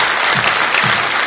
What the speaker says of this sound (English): welcome her with a big round of applause